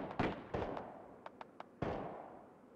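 Gunfire in the online shooter game Ring of Elysium: several sharp shots in irregular bursts, a few quieter distant pops between them, fairly faint overall.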